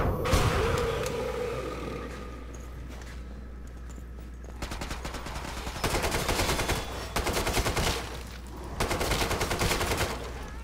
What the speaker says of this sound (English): the AK is serious business